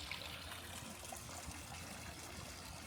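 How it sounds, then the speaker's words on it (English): Water trickles steadily through a small water feature in a zoo animal exhibit, a continuous soft splashing wash with no break, moderately close and unaccompanied by voices. "Got a cool little water feature there in their exhibit."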